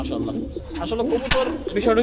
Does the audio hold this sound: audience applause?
no